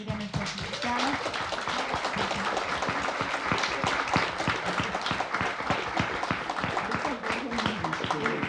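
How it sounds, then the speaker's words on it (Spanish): An audience claps to send off departing guests at an event, a dense continuous patter of hands close by with voices murmuring beneath it. "Les pido un aplauso para despedir a nuestras invitadas"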